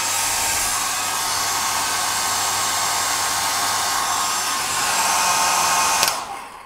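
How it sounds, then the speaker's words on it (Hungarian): A 1200-watt hair dryer, powered from a 100 Ah LiFePO4 battery, blows with a continuous loud whooshing hiss and low hum, then switches off near the end as the sound winds down. "például ezt az 1200 wattos hajszárítót is"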